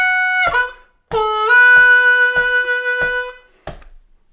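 A harmonica plays a second blues lick, opening with a bent 4 draw and then a long held note pulsed in a steady rhythm, played close and loud with no voice.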